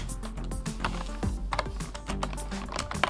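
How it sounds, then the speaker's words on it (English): Rapid clicking keystrokes on a computer keyboard while entering code in the Shenzhen I/O programming game, a steady close run of taps with slightly uneven rhythm. "if we click in here, we can type in code"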